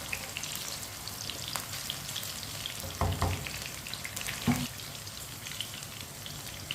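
Onions fry in a pan with a soft, steady sizzle and crackle, broken by a couple of louder clattering knocks midway, close and fairly quiet with no voices.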